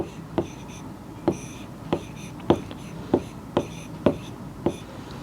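Chalk tapping and scraping on a classroom board as numbers are written, a series of sharp, evenly spaced strokes at close range over quiet background.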